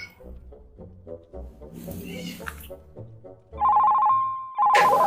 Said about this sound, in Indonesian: Telepon wae gitu si Ayang.